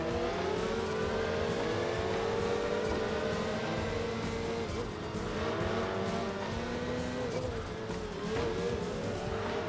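Race cars in Enthusia Professional Racing drone continuously with engine notes rising and falling through gear changes, with faint tire squeal mixed in; a voice talks faintly underneath.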